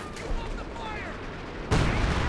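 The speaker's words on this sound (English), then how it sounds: "We also got what appears to be major artillery being brought on in" Heavy artillery shelling in the Company of Heroes 2 battlefield, with a sustained rumbling barrage that swells into a louder, harsher burst of detonations near the end, plus some whistling sweeps mid-clip.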